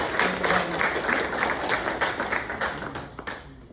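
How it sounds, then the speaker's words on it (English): Audience applause breaking out after a tribute, a dense, steady patter of many hands clapping close by, holding through the clip and thinning slightly toward the end. "Round of applause."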